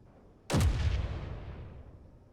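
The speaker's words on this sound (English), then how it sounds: "That's the power of artillery." In Space Engineers, a single close artillery shot fires at an enemy ship, opening with a sharp heavy boom. It is followed by a long rumbling tail that slowly fades over about two seconds.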